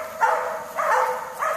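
Dogs in an indoor pack give three short barks or yips, evenly spaced, close and moderately loud, with no talk over them.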